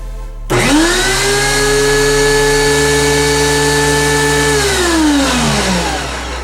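A DeWalt DW735X thickness planer switches on and spins up to a loud, steady whine with a clear pitched hum, holds for several seconds, then begins winding down, close and alone.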